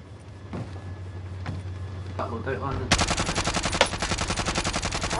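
Krig rifle firing in the Warzone game on Rebirth Island, a sustained fast automatic burst with evenly spaced loud shots, preceded by quieter game ambience and a brief voice.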